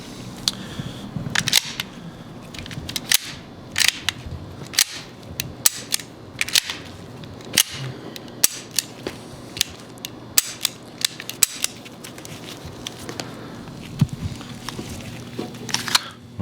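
Close metallic clicks, snaps and rattles from a Walther firearm and its ramrod being handled during a restricted-lot auction preview, with sharp irregular clacks repeating over a quiet mechanical shuffle.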